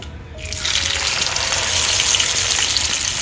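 Mackerel dropped into hot oil with curry leaves for frying, a steady loud sizzle and hiss that swells as the fish goes in and keeps crackling evenly throughout.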